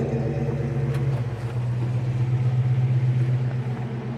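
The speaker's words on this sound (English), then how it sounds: "Under the hood is a 5-liter, 302 cubic inch engine out of like a Fox body Mustang." 1966 Ford Mustang coupe with a 5-liter 302 cubic inch V8 and MSD fuel injection idling, a steady low rumbling engine note that stays close and even throughout, with no talking.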